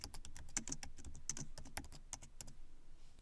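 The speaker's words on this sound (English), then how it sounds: "And then I'll just go ahead and type my name." Quick, light clicks of typing on a computer keyboard, a rapid uneven run of crisp keystrokes heard close and quiet with no voices.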